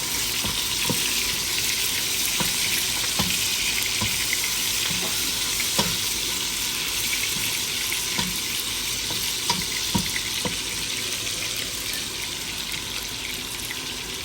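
Sliced ginger sizzles steadily in hot oil in a pan for chicken and pork belly adobo, a dense continuous frying hiss broken by occasional soft utensil taps, with no voices.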